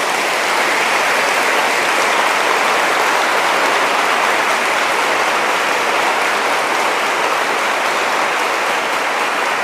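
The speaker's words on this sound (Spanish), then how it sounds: "Un aplauso para el Papa." Dense, steady applause from a large audience honoring the Pope, filling the whole stretch at a loud, even level with no voices standing out.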